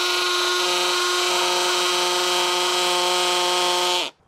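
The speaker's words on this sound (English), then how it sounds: "if you're drilling down through, if you move this around a little bit, it's gonna go a lot faster" A power drill bores steadily into hard concrete for Tapcon screws, a loud continuous whine with a strong tonal hum, running unbroken for about four seconds before spinning down and stopping abruptly.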